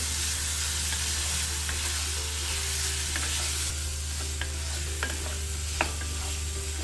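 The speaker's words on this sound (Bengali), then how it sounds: "এটাকে একটু হালকা 1 মিনিটের মতো নাড়াচাড়া দিয়ে কষিয়ে নিব" Tengra fish with potato, papaya and tomato being stirred in a hot pan, a steady sizzle and frying hiss with soft scraping strokes of a spatula running throughout, close and continuous with no talking.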